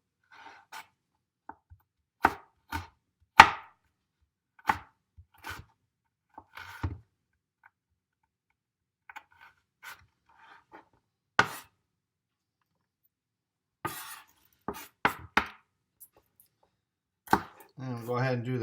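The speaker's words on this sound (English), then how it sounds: "I'm going to cut it that way and then throw it down there and just thinly slice." A knife thinly slices food on a cutting board, making sparse, crisp taps scattered at an unhurried pace. A brief murmur of voice comes near the end.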